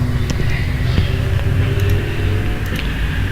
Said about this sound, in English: and that's a motorcycle.